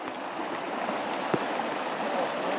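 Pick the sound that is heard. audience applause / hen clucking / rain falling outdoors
rain falling outdoors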